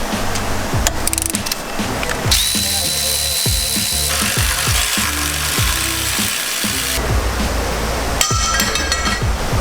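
A ratchet with a 12 mm socket cranks out intercooler bracket bolts on a 2017 Subaru WRX STI during a COBB front mount intercooler install, giving rapid, loud, rhythmic clicking bursts close by.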